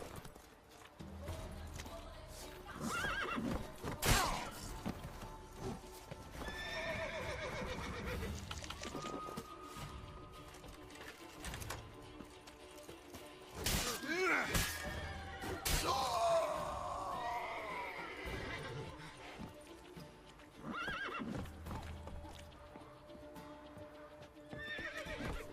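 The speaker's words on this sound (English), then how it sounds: "Whoa there, Roach. He can't take this" Horse from The Witcher 3 neighing and whinnying several times over clip-clop hoofbeats, set against game music and effects, loud and close.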